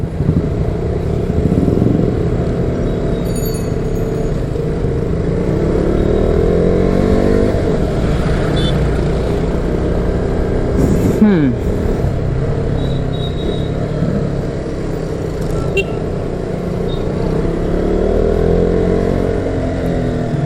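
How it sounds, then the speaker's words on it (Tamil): Busy market road traffic in Arakkonam, Tamil Nadu: cars and motorcycles pass close by in a continuous drone, with engines revving and accelerating and brief horn-like tones. "மார்க்கெட் டிராஃபிக்காக தான் இருக்கு"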